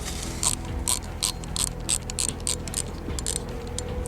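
The central knob of a Shimano Baitrunner fishing reel is turned tighter, giving a steady run of small sharp mechanical clicks about every half second, close and clear over a low background hum.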